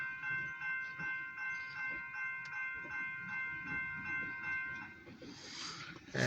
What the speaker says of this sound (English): The symbol on that train was OC&T Alco 75 passenger train.